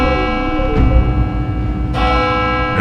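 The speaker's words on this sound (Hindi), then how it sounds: "घंटी बजी।" A bell rings loudly and steadily in a courtroom, its sustained metallic tones filling the whole moment with no talk over it.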